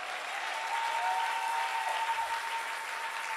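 Applause from a church congregation, a steady, dense wash of clapping filling the whole moment at an even level with no talk over it.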